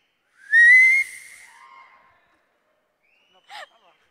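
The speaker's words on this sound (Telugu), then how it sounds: "సార్ ముందు విజిల్ వేసి అప్పుడు మాట్లాడదాం సార్" A producer on stage at a film pre-release event gives a single loud, rising whistle lasting about a second, then a brief fainter whistle chirp follows after a pause, with no talking.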